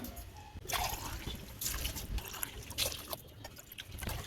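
Water pours into basmati rice for beef biryani, a steady trickling, splashing stream running for several seconds at close range with no talk over it.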